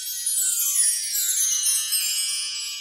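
Metal rod chimes from an LP set made in the 1970s ringing steadily, a dense shimmering cascade of high bell-like tones that sustains and overlaps throughout, with no speech.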